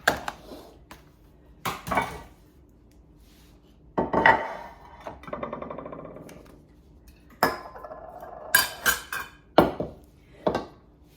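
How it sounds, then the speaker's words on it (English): Chocolate chip bar batter being dropped in globs and spread in a baking dish, heard as scattered clinks and scrapes of a utensil against the dish, with quiet pauses between bursts. "I kind of drop it into globs in here and then do my best to spread it out evenly"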